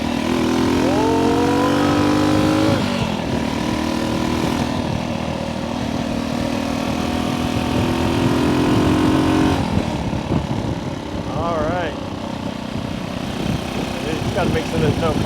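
Vintage 1964 Honda C200 motorcycle ridden on a street, its small engine revving up and dropping through a gear change, then pulling steadily with strong wind rush close to the rider.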